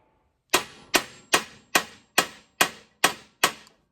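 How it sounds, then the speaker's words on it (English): Hammer and dolly strike sheet metal while working out creases, eight sharp, evenly spaced metallic blows about half a second apart, close and alone with ringing decay after each. "So I'm gonna keep working it with hammer and dolly and heat"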